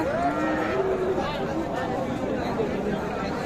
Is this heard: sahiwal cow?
yes